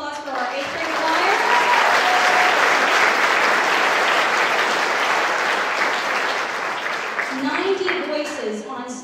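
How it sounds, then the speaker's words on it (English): Sustained audience applause for an 8th grade choir at a school winter concert, a dense wash of many hands clapping that swells and holds steady for several seconds before tapering as a voice begins to speak. "How about another round of applause for our 8th grade choir?"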